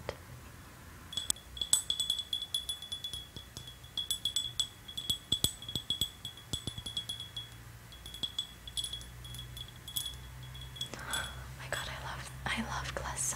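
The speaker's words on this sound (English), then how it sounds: "A different glass sound." Long nails tapping on glass in an ASMR setting, with quick clicking taps and clinks close up under soft whispering, followed by a scratchier burst near the end.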